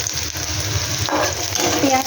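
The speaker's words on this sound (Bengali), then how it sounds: "পেঁয়াজগুলোকে একটু হালকা ভাজা করে নেব, জাস্ট একটু রঙটা চেঞ্জ হবে" Onions fry lightly in a pan for a mustard-based dish, giving a steady close sizzle with a brief stirring scrape partway through and no voice over it.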